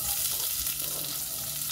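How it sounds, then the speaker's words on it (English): Onions fry in hot oil for a ginger butternut soup, giving a steady, even sizzle close by with no talking. "So heat up your oil. Add in the onions."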